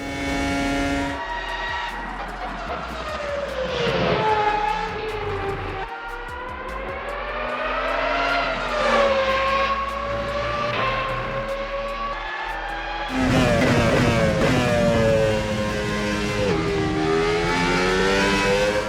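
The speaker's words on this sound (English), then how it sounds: "they switched out the V6 hybrid with a V10 naturally aspirated monster, which you can probably already hear" A high-pitched naturally aspirated V10 engine of an F1 car in a racing video game screams and revs continuously, rising and falling through gear changes, loud and close throughout.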